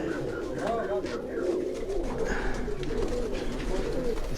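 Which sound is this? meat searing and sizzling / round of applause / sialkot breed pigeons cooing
sialkot breed pigeons cooing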